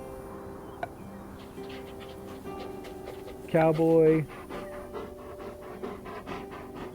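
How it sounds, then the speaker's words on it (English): Dogs panting in the farming video game Farm Together, a soft steady breathing loop under game music and someone talking, with a brief louder melodic chime partway through. "Now you hear the dogs."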